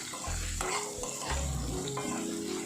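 Sliced onions and green chillies fry in a pan for shavige uppittu, a dense close sizzle under repeated scraping and clanking of a spoon stirring against the metal.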